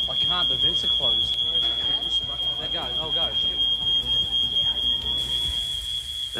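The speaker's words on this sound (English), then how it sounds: "There's chaos going on with these smoke alarms." Smoke alarms shriek in a house, a piercing steady electronic tone running the whole time, with people talking and shouting over it amid kitchen clatter.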